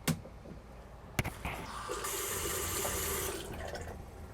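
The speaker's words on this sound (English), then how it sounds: "turn on the pump, and then run a little bit of water to see" Water runs from a bathroom tap in an RV, fed by a Flow Max fresh water pump. A couple of knocks come first, then a steady hiss of flowing water nearby, with no talking.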